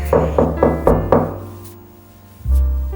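Five sharp knocks on a door in a Pakistani drama scene, evenly spaced in a quick rhythm and fairly loud and close. A pause follows, then a deeper low rumble.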